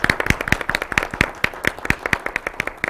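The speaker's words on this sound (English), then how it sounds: "A round of applause for our participants." Audience at a school district spelling bee claps for the participants, with sharp, fairly sparse claps in a steady patter from a modest crowd, loud and close, without voices.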